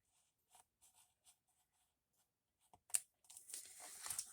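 Scissors cutting paper: a few soft, brief snips at first, then a louder, denser run of crisp paper slicing and rustling near the end, close and quiet, with no voices.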